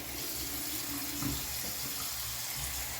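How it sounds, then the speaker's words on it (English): Lukewarm water runs from a tap into a sink, a steady close rushing hiss with faint splashing as the basin fills, no voices over it. "I'm gonna fill up the sink with lukewarm water."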